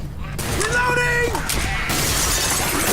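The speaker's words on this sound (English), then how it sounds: "they're breaking in through the windows" Zombies smashing windows in the Left 4 Dead game, loud glass shattering and crashing mixed with a dense clatter of game action and voices, continuous and close throughout.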